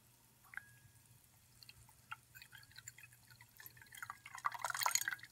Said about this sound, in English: Let's go ahead and we'll add some ice water to this beaker.